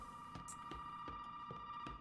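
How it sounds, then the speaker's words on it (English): A telephone in Resident Evil 7 rings with a steady electronic tone held throughout, accompanied by soft repeated clicks and thuds, fairly quiet and without talk. "Oh, phone's ringing."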